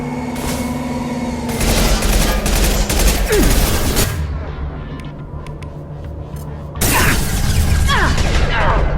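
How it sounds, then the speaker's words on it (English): A gunship attacks with heavy gunfire in the video game Mass Effect 2, loud sustained bursts and booms over a steady hum, with a shouted voice partway through and a second burst of firing near the end. "Gunship!"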